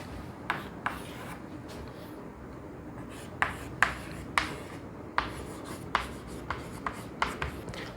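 A pen scratches out results by hand on paper, soft sliding strokes punctuated by sharp taps and ticks at an irregular pace, close and quiet over room noise.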